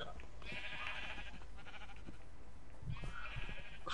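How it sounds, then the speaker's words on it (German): Sheep bleat in the video game Minecraft, two drawn-out nasal calls separated by a short pause, fairly faint over a low background hum, with no speech. "Oh, jetzt fress doch mal, ihr Schafe!"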